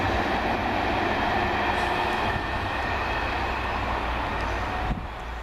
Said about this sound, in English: 43078 will leave that train.